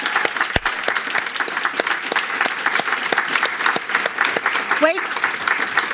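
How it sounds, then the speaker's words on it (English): Steady, sustained applause fills a college awards ceremony hall, with a sharp knock early on and a brief voice speaking near the end over the clapping. "So I want to give a big round of applause to Northern Essex"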